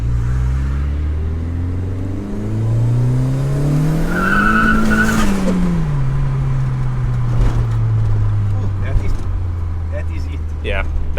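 A VW Golf Mk2 with a 1.8T engine revs hard through power turns. Its engine note climbs and falls while the tires squeal and skid, loud and close, with voices faintly present.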